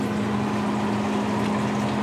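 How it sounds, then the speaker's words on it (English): A basement sump pump running as it pumps out water drained from a dehumidifier in a root cellar, giving a steady, close mechanical hum with a low tonal drone throughout and no talking. "That noise you hear is the pump, because the dehumidifier drains into the sump pump"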